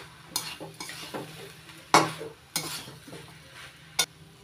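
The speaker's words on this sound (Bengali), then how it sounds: "চিনি নাড়াচাড়া করে মিশিয়ে নিচ্ছি।" Sugar being stirred into banana flower curry in a pan, with a spoon scraping and knocking against the pan in several sharp strokes over a soft sizzle, close and alone.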